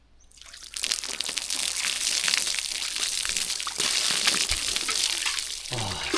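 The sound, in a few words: water poured from a bucket for a shower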